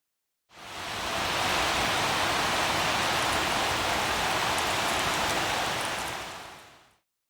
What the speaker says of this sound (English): It's a rainy Tuesday evening.